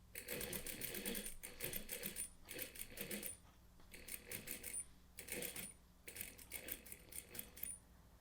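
Sewing machine stitching fabric layers at the corner of a split hem on a combination dress, running in close bursts of rapid mechanical clatter separated by short pauses.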